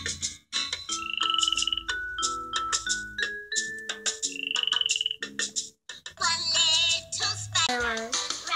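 Frog croaks sound repeatedly in a children's song about speckled frogs, appearing as a series of rhythmic, tonal croaks blended with melodic sung and musical notes.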